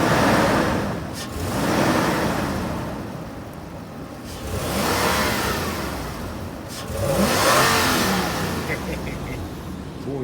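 A 2005 Nissan Armada SE engine runs and revs in three swelling waves, rising and falling at moderate loudness with a whirring tone between surges.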